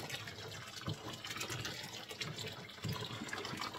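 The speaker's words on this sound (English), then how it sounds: "Some added hot water, boiling water." Boiling water from a kettle pours steadily into a pot while canning apple butter, a continuous soft splashing gurgle, fairly faint and unbroken throughout.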